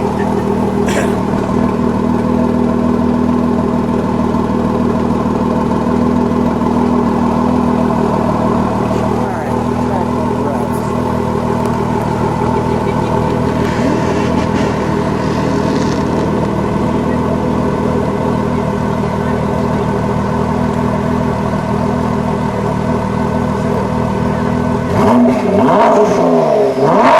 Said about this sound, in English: And we'll do one track mode rev.